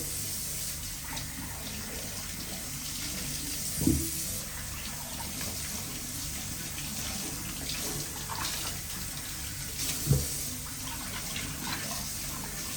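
Shisha heads rinsed by hand under a running tap, a steady close hiss of flowing water with a couple of brief knocks or splashes.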